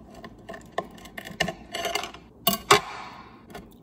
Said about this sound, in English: so here's my vanilla bean. I am just going to cut it.